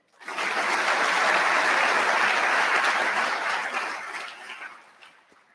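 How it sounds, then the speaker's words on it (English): Applause rises quickly from a graduation audience at a West Point ceremony for the awardees, a full, dense wash of clapping that holds strong and then gradually thins and fades. "Please give these individuals one more round of applause"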